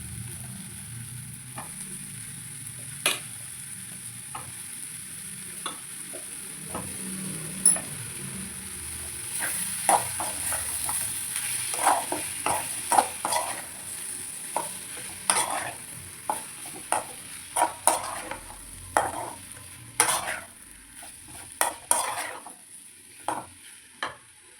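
Potato cubes fried with chili powder and salt are stirred in a pan, giving a steady close sizzle with repeated sharp scrapes and knocks of the spoon that grow busier toward the end.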